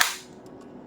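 A Zuru X-Shot Hawkeye toy shotgun, a plastic bolt-action blaster, gives one sharp click as it is reloaded, followed by faint quiet.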